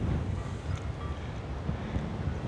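Wind gusts over an open mountain in the Monts du Cantal, heard as a steady, fairly faint rushing buffet against the microphone with no voices.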